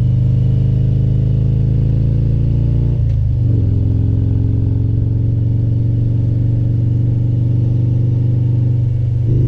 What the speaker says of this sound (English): every so often people like hearing just the motor instead of the music